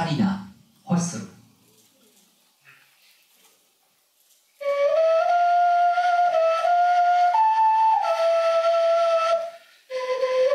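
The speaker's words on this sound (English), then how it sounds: "This is ocarina, whistle." Ocarina whistle played at a Japanese device-art lecture and demo: a sustained, pure tone that steps between a few held pitches for about five seconds, pauses briefly, then resumes, heard after some brief speech-like sounds at the start.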